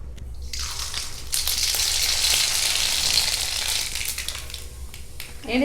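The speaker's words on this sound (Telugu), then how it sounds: "నూనె వేడైంది నాన్న, సగం స్పూన్ ఆవాలు ఇద్దాము" Half a spoon of mustard seeds sizzling and crackling in hot oil, a steady close hiss that swells after a second and continues to the end.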